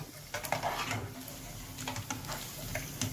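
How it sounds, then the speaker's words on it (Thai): Shallots frying in oil give a low bubbling hiss. Scattered scrapes and light clinks of a utensil in the pan cut through it over a few seconds, with no talking. "นี่นะครับ เราเจียวมาเรื่อยๆ นะครับ"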